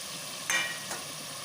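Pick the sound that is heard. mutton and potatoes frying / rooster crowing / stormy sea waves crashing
mutton and potatoes frying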